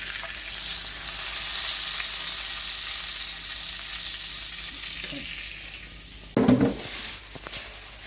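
Steady, loud sizzling of sirloin steaks frying in a hot pan, a continuous hiss that fades slightly before a brief clatter near the end.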